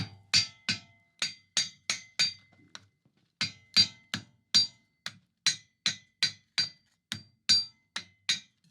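A hammer strikes folded sheet metal on an anvil in a steady run of about two dozen sharp, ringing blows, close and loud, with one short pause partway through.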